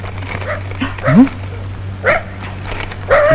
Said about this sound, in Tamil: துப்ரீம் நாய் சீசர் கொலையாளியை கண்டுபிடிக்க மதுரையிலிருந்து விரைந்து வருகிறது